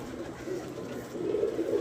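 New white pigeons cooing, a low steady murmur of coos that grows louder toward the end, close and without speech.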